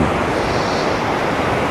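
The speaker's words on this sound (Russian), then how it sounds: "И с новым днем, как говорится, будет новый морской шум." Stormy sea surf at Anapa on a windy day, a loud, dense, continuous roar of breaking waves with wind rush, close up and without any voices.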